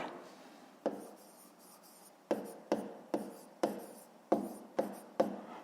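A pen scratches across paper during a fifth-grade maths exercise, working out the cost of three kilograms of sweets, in a series of short, close strokes with sharp onsets and fading tails, with pauses between them and no talk.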